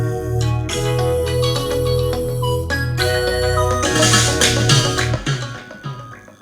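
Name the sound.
simple flute melody in an Afrobeats track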